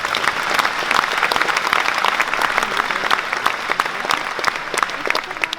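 A church congregation at a Catholic charismatic renewal gathering claps in steady, dense applause that stays loud and even throughout, with no talk over it.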